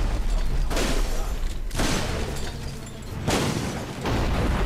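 Cannon fire booms in the video game Dungeon Siege 3, loud and close, with heavy blasts that rumble and fade into one another across a few seconds of battle.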